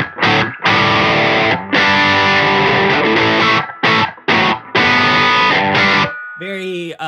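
Electric guitar run through a Hologram Chroma Console pedal set for plexi amp-style distortion, loud crunchy chords played in choppy bursts with short gaps, ending on a brief cleaner ringing note.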